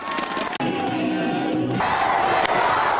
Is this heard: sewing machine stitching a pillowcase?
no